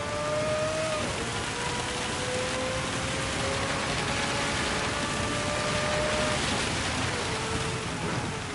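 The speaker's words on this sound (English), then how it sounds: "It's fucking raining, dude." Rain in the Gran Turismo 7 racing game during a wet endurance race at Spa, a steady hiss of rainfall blended with car engine tones running throughout, loud and continuous with no talk.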